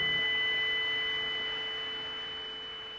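A synthesized sine wave holds steady pure tones, its volume shaped by an LFO, and fades slowly over a few seconds beneath a faint wash of filtered noise.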